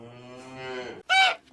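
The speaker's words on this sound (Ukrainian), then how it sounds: "корова з телятами" A cow moos once in a long, low, drawn-out call, then gives a shorter, higher bleat at the end, close and clear with no other sounds.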